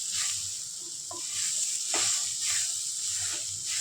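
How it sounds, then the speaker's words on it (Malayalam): Soybean curry sizzling in a pan over a low gas flame, a constant hiss broken by repeated swishing surges as a spoon stirs it, close and moderately loud, with no talking. "നന്നായിട്ട് ഇളക്കി കൊടുക്കട്ടോ."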